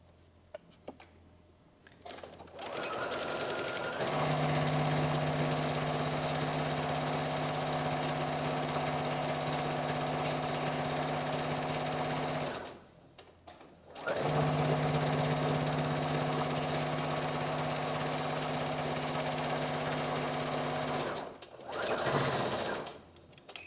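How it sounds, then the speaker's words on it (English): A domestic sewing machine runs steadily while stitching close to the edge of a dress, its motor hum and rapid needle clatter holding in two long continuous runs separated by a short pause, close and fairly loud, with no talking. "And now I'm gonna sew along here, relatively close to the edge here, from one end to over here."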